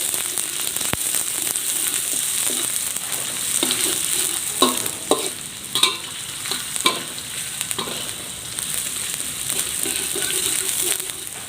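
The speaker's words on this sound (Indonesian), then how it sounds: "Kita tumis sampai dengan kecoklatan dan matang." Onions being sautéed until browned for a Demak-style beef asam-asam, a constant close sizzle broken by repeated scraping and knocking stirring strokes, the busiest stretch in the middle.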